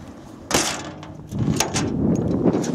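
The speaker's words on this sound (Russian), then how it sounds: "Закрываем крышку." A metal lid on an abandoned diesel dragline crane excavator clanks shut with a sharp knock, followed by a short rattling scrape and some rustling.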